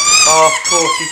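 A dog lets out a high, whining yelp with a strained, tonal quality, short and close.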